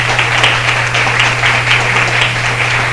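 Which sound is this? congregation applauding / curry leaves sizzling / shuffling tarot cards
congregation applauding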